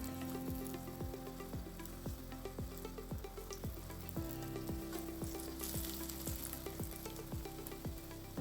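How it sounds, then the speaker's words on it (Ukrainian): Oil sizzles and crackles steadily in a preheated pan as cottage cheese pancakes fry, with repeated soft clicks and taps from a utensil. "На розігріту сковорідку з олійкою ми випускаємо сирники."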